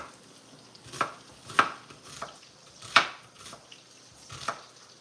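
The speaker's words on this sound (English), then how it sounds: "I'm cutting them fairly thin so that when they'll caramelize up and they'll just be very lovely" Knife slicing onions thinly on a cutting board for caramelizing, a series of separate soft chops spaced about half a second to a second apart, close and fairly quiet.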